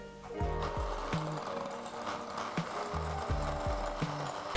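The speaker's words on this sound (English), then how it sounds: "First you will need the softened butter, and you want to beat it with the sugar." Electric hand mixer beating softened butter with sugar for oatmeal cookie dough, a steady motor whir with repeated low knocking pulses as the beaters bump the bowl, close and continuous throughout.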